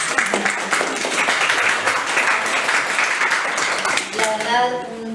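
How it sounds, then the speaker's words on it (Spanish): Audience applause at a book presentation, a dense steady clapping from a crowd lasting several seconds before a voice begins speaking near the end. "un aplauso."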